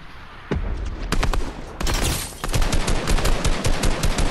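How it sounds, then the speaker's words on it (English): Video game gunfire crackles in bursts of rapid shots, some sharp single cracks and sustained automatic strings, fairly loud and close, with no talk. "They're not shooting at us, they shooting over there."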